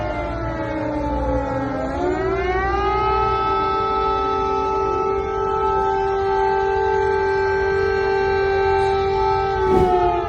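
A loud air raid siren wails steadily in Lviv, Ukraine, during a Russian missile attack, its tone rising after a brief dip and then holding a long, sustained pitch with no voices.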